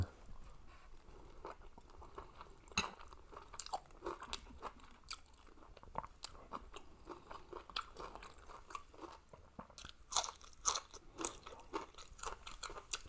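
Someone eats meatballs in mushroom sauce close to the microphone, with soft, wet chewing and bursts of crunching and biting in an irregular rhythm.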